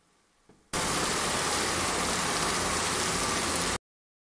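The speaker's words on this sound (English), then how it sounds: "Is it the sound of the rain?" Rain in a video game, a steady, dense hiss of rainfall that starts abruptly after a moment of near silence and cuts off just as suddenly.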